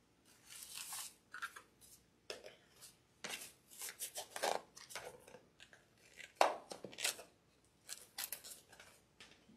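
Repeated snips and crunches of wire being cut on a white pine Christmas wreath, sharp close bursts spaced irregularly with rustling of greenery between them.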